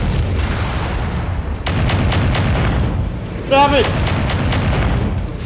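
Missile salvos and explosions from a MechWarrior 5: Mercenaries mech battle, a run of sharp rapid launches followed by rumbling blasts, loud and close, with a voice talking over them.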